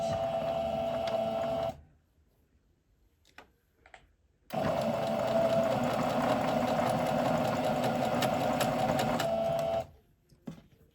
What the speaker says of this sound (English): I'm going to back stitch.